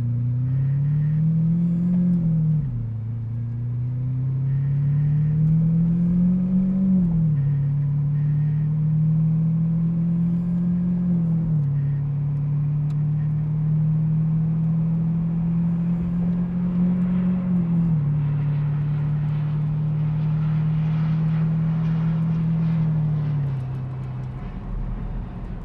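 2017 Lamborghini Aventador SV in first gear on automatic, a low steady engine drone from inside the cabin that rises and dips gently as it accelerates to low speed over about twenty-five seconds.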